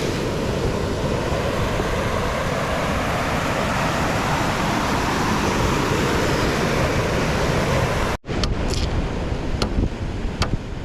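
Sea waves rolling against a small fishing boat off Palawan, a continuous loud rush of surf and water that cuts off abruptly near the end, leaving a few sharp knocks and splashes close by.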